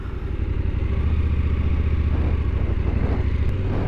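A KTM adventure motorcycle rides on a dirt road, its engine giving a steady, loud, low pulsing drone throughout, close by and with no talk.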